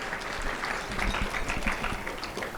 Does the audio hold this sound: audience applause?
yes